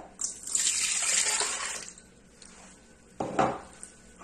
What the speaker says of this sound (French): je vais verser le lait tiède